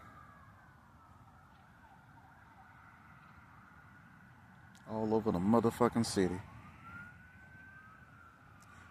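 A distant police or ambulance siren wails faintly, rising and falling in long sweeps, while a voice briefly speaks loudly over it midway.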